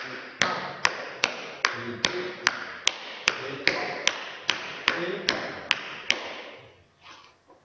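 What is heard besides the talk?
tap dance steps with tap shoes, starting with a flap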